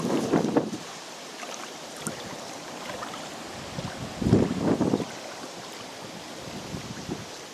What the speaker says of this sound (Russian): Смотрите, какой ветер поднялся.